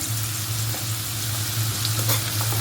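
Sliced onions with salt sizzle in a pan for a dal curry with green onion stalks and carrot, a dense, steady, close frying hiss with light stirring scrapes and a faint low hum beneath.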